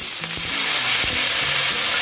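Bean sprouts and sliced onion stir-frying in a pan, with a loud continuous sizzle and occasional scrapes and taps of a spatula, close and with no talking.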